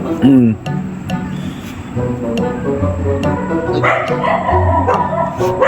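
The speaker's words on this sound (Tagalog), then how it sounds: "Aso." A dog barks and yips a few times amid a busy background of clatter and people talking nearby.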